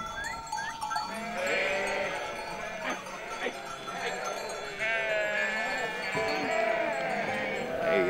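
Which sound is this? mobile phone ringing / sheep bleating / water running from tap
sheep bleating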